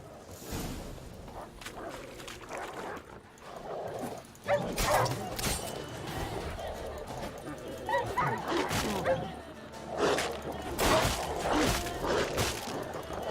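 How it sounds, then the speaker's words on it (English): Dogs bark and yip repeatedly in a misty area in The Witcher 3: Wild Hunt, loud sharp bursts with whooshing combat sounds, under and between excited talking. "Dogs."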